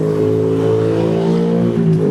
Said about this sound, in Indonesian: Bisa kita lihat kondisi lalu lintas juga sudah ramai lancar.